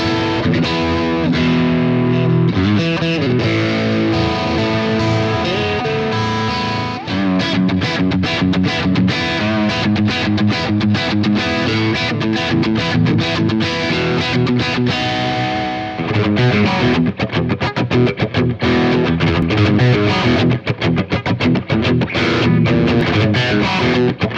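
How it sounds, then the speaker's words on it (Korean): Headless electric guitar with swamp ash and walnut body, middle pickup position, playing a continuous run of riffs and chords in a bright, thinner split-coil tone with light drive, loud and steady throughout, no speech. "픽업 스위치를 가운데에 놨을 때 이 스플릿 소리가 꽤 좋았습니다"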